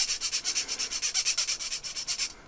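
A Staedtler watercolor pencil scraped back and forth on a wire mesh grater, a close, rhythmic rasping of around twenty quick strokes that stops abruptly.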